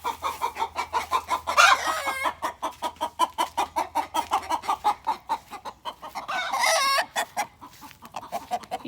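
A backyard rooster makes a fast, rhythmic run of loud clucks, broken by two longer, drawn-out crowing calls, all close and clear, with no talking.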